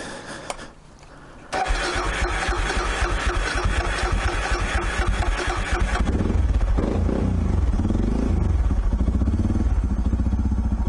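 A motorcycle engine fires up after a short crank and settles into a loud, close running drone, then the throttle is opened and the note deepens and grows rougher, with no talk.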